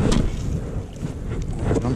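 Wind buffets a fishing boat on Lake Hickory in winter, a steady loud rumbling roar across the microphone with gusting swells throughout.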